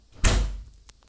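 A door in the video game Hello Neighbor shuts with one loud, close thud, followed by a short fading rumble and a faint small knock.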